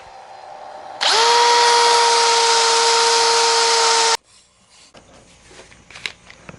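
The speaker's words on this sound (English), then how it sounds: "trying to get actually in there with the sanding pads" A loud, steady whirring power tool sands the inside of a segmented wooden bowl with sanding pads, running continuously for about three seconds, then cutting off abruptly, leaving faint scraping and shuffling noises.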